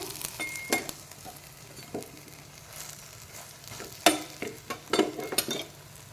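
Brinjal frying with chilli powder and a few drops of lemon juice sizzles in a pan, broken by sharp scraping stir strokes and clinks of a spatula, close and clear with no talk.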